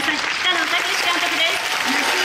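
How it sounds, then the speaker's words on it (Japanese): Audience applause greets film director Takeshi Kitano at the opening ceremony of the 25th French Film Festival in Japan, 2017. A steady, dense wash of clapping from a large indoor crowd, with a voice faintly underneath. "それでは大きな拍手でお迎えください。"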